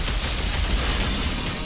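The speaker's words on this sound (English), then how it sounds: "I like how that cannon speeds up its firing rate as you hold the" A rotary cannon fires rapidly in the VR space shooter Overload: a dense, continuous roar of overlapping shots, loud and steady for the whole short burst, with no talking.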